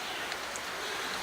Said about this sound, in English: I'm waiting for the rain to stop a little bit